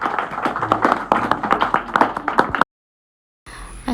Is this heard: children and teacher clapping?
yes